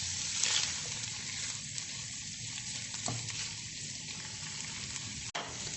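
Shrimp sizzling and frying steadily in a hot pan for molokhia, a continuous close crackle with occasional stirring scrapes and a brief clatter near the end, with no talk.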